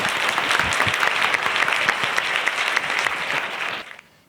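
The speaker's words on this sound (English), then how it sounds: "Round of applause for Braddock, everyone." An audience claps loudly and steadily for the speaker Braddock, a dense burst of applause that fades out abruptly near the end.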